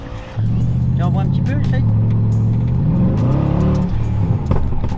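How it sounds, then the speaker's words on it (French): A Mercedes C63 AMG W204 with a 6.2-litre engine does a burnout on the spot, giving a loud, close, steady engine drone that swells and climbs in pitch while people talk over it. "moi je vais aller freiner et faire un burn sur place."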